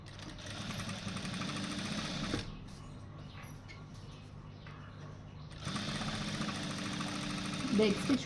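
A sewing machine stitching fabric piping runs in a fast steady whirring chatter, stops for a few seconds, then starts up again, close and fairly quiet.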